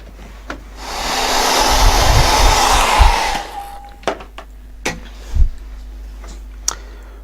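A hair dryer blows loud and steady for about three seconds over a wet watercolor painting of a stormy sky in Payne's grey, then cuts off, leaving a few light taps and knocks nearby.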